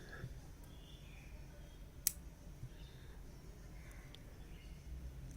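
A single crisp snip of scissors cuts crochet yarn on a small bag-charm piece. Faint, scattered clicks and a quiet room hum surround the cut.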